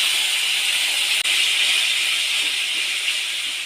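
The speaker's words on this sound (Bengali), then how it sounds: "অল্প একটু জল দিয়ে মশলাটাকে কষিয়ে নেব" Water poured onto spice masala of turmeric, chilli and cumin powder in a hot pan gives a steady, loud hiss that holds evenly throughout, with one brief dip partway, and no voices.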